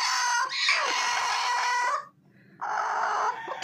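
Chickens on a small home poultry farm, a loud close rooster crow followed after a brief pause by another crowing or squawking call, with no talk.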